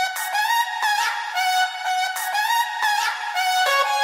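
Bright, repeating synth hook melody from the drop of a remix, a loud, steady electronic line with rhythmic pulses, played alone without vocals.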